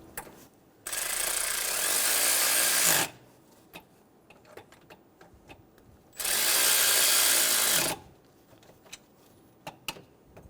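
Power ratchet snugging radiator cooling fan blade nuts on a 2005-2015 Toyota Tacoma 2.7L four-cylinder: two steady whirring bursts of about two seconds each, separated by quiet clicks and handling noises.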